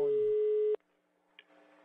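A telephone busy tone sounds as a steady loud beep after a dropped call on a radio show line, then cuts off into near silence with faint line noise.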